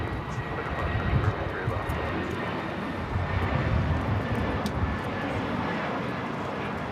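A Spirit Airlines A320 jet takes off at LAX with a loud, steady engine roar that holds throughout, broad and rumbling at a distance.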